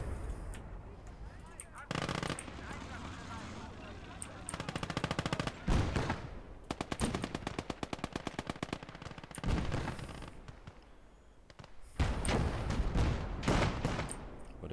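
A machine gun emplacement fires in the WWII game Call to Arms: Gates of Hell. Rapid bursts of automatic gunfire come in clustered rattles with sharp single shots between them, and someone talks over the shooting.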